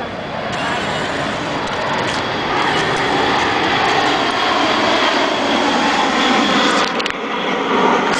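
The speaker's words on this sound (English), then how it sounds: "Airplane." An airplane flies overhead with a loud, steady roar of engine noise that holds for the whole stretch without fading.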